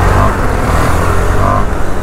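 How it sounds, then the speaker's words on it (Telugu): A motorcycle engine runs steadily during a ride, heard as a loud, continuous low rumble blended with rushing wind noise at close range, with no breaks. "కాకపోతే బండి సౌండ్ క్లియర్ వినిపిస్తుంది కదా చెప్పండి"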